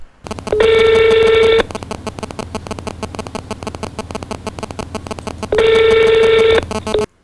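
Telephone call tones: a rapid run of dialing beeps, then two long loud electronic ringing bursts at the start and end, separated by a steady pulsing tone in between.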